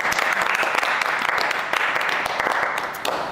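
A church congregation bursts into sustained applause, many hands clapping densely and evenly at close range for a few seconds without pause.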